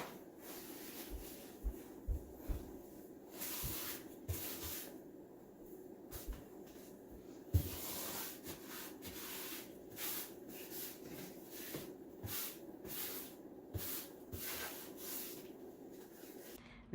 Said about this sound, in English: I'm scraping the ledge and I'm sanding it